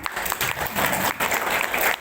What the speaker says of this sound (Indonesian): 100 tepuk tangan